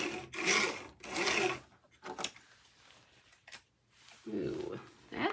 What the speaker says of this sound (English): I'm going to actually cut this on my trimmer